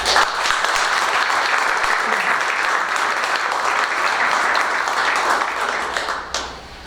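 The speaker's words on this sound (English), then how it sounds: "All right, round of applause." Sustained audience applause at an outstanding educator awards event, steady and full for about six seconds before tapering off at the end.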